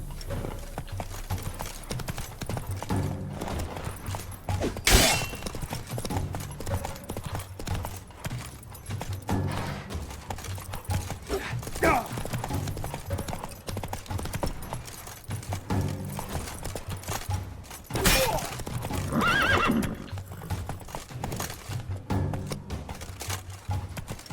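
Roach, Geralt's horse in The Witcher 3: Wild Hunt – Blood and Wine, gallops in a steady rapid clip-clop of hooves under game music, with a couple of sharp louder impacts along the way.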